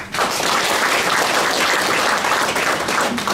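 A crowd at a town hall meeting applauds steadily, a dense wash of clapping that holds at an even level for a few seconds with no talking.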